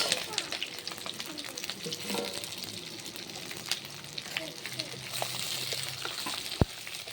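Cumin seeds, garlic and onion frying in hot oil, a steady crackling sizzle with occasional spatula stirs and clinks, one sharp knock near the end.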